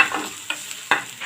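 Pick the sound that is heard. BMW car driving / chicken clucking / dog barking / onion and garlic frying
onion and garlic frying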